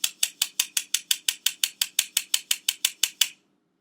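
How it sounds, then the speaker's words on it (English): A hand-cranked flour sifter turns through flour, baking powder and salt, giving a steady series of about sixteen crisp, evenly spaced metallic clicks that stop abruptly. "just work through the sifter and it will mix it all into the flour for you"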